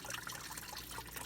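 Coolant from a Ford Edge trickling and splashing steadily into a catch pan, a continuous close liquid dribble with no voices.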